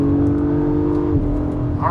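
A 2022 Acura MDX Type S at full throttle gives a loud engine whine that climbs steadily, then shifts pitch near the end. A brief voice cuts in at the close.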